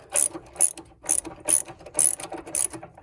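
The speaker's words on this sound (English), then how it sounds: "So now I just got a little tiny ratchet on here I'm gonna use just to finish loosening this" A small ratchet clicks in six quick bursts, working a water heater anode rod loose, close-up and crisp with short pauses between strokes and no voices.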